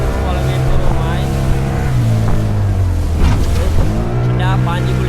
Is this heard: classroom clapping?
no